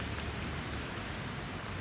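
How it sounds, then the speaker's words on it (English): Rain falls in a steady, even hiss at a flag football game, a soft continuous patter with no voices over it. "It is raining."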